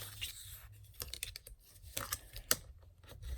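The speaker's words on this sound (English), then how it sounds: "I'm just going to burnish this with my bone folder on those 2 score lines" A bone folder is rubbed firmly along two score lines on a paper card, making short scratchy rasping strokes in an irregular rhythm, close and fairly quiet.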